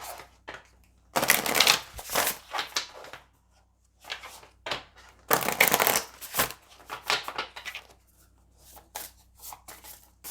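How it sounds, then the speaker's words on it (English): Tarot cards are shuffled and pulled close by, with two loud riffling bursts and many shorter flicks and slaps in an uneven rhythm, no voices over them. "let's pull some other cards here"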